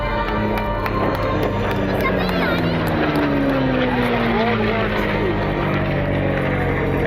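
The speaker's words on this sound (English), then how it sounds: "This airplane is known as By Request." The World War II vintage warplane By Request flies overhead at an air show, a steady propeller drone sweeping in pitch as it passes and climbs, with a commentator's voice and crowd noise continuing beneath.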